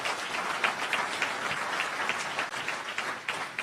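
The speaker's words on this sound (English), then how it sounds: "I think they all deserve a big round of applause from all of you." An audience at a diaspora meet-and-greet event applauds in a steady, dense round of clapping that holds for several seconds at moderate volume.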